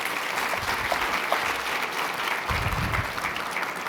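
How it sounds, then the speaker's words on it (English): An audience claps for a guest welcomed onto the stage at a conference report presentation. Applause from a large room stays steady and fairly even for several seconds, with no speech over it. "Can we have a round of applause for Doug?"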